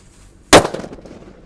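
A firecracker buried in the ground goes off with a single sharp, loud bang, followed by a brief rumbling, scattering decay.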